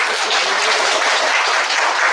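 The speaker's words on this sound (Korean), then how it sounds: "다시 한번 많은 축하의 박수를" A church congregation applauds a newly blessed married couple: a dense, steady wash of many hands clapping at once, loud and unbroken for the full couple of seconds, with no voices on top.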